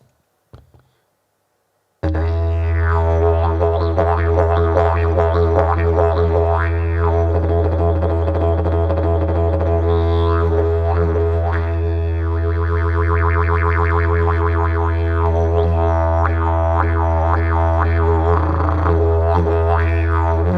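A didgeridoo's deep steady drone is shaped by tongue movements into pulsing, bouncing rhythms and warbling overtones, played loud and alone for almost twenty seconds after a brief quiet start.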